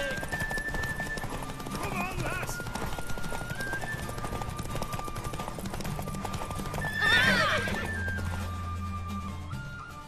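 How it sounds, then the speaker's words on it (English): Hooves clip-clop steadily through a horse race in The Witcher 3, with a horse neighing partway through, over game music and ambient sound. "when you race, your horse doesn't auto track on the road"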